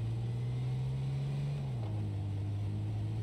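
A car engine droning steadily in the H1Z1 King of the Kill game, its low hum holding even and then dropping slightly in pitch, heard alone at a moderate level.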